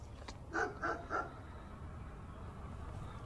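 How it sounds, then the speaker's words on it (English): Three quick barks from a dog outdoors, fairly clear against a quiet open-air background, then fading into faint ambient noise. "The dog's gonna give me away."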